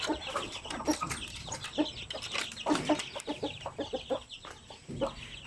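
Several native chickens, including a rooster and a hen, cluck and murmur close by in a steady, busy chatter, with a few sharper squawks rising now and then.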